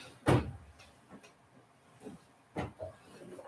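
A drawer pulled open and pushed shut while envelopes are fetched: a sharp thump followed by a few softer knocks and slides, close by in a quiet room.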